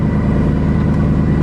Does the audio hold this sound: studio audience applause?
no